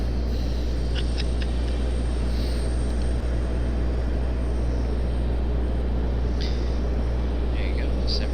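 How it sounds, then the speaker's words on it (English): An Embraer E190 jet at Raleigh-Durham International airport, a loud, steady engine roar with deep rumble holding throughout, heard outdoors under occasional background noise. "There you go, this Embraer E190."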